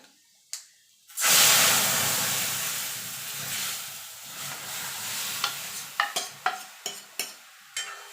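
A sudden loud sizzle erupts as whole spices hit hot oil for lentil dal tempering, slowly fading, followed by a series of sharp spatula taps and scrapes.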